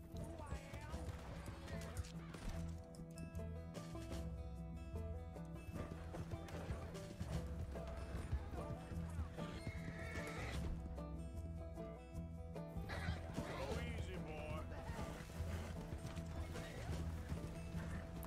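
Horse hooves clip-clop and a neigh sound within the video game Red Dead Redemption 2, blended into a dense, continuous mix of game music and effects while someone talks over it.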